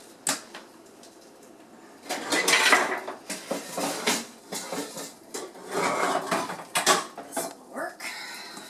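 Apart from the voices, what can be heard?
lid put on cookware of veggies, placed in oven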